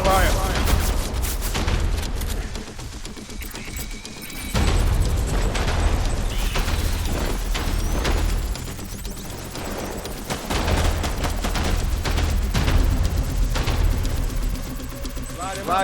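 Gunfire and explosions in the video game Death Stranding: sustained bursts of automatic fire and heavy booms in dense, loud waves, briefly easing around the middle before resuming.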